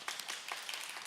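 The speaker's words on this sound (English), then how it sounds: "They definitely deserve a round of applause." Brief, faint applause for church wardens at a church annual meeting, a light patter of a few hands clapping.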